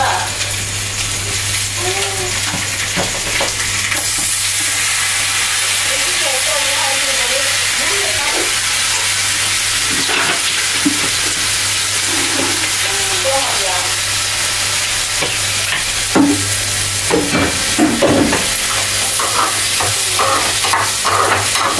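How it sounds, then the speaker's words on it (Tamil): Tomatoes frying in a pan with sautéed onions give a loud, continuous sizzle and crackle, broken by scrapes and knocks of stirring, close by and without talk. "இப்போ நம்ம தக்காளி போட்டு பார்த்தீங்களா"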